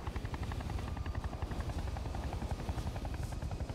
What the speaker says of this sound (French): Donc là, l'hélico il est en stationnaire.